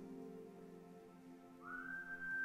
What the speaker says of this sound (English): And I whistled.